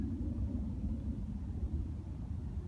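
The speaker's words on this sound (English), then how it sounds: "I can hear an airplane." A distant airplane passes overhead near Philadelphia Airport on a quiet winter day, a faint, steady low rumble with no voices.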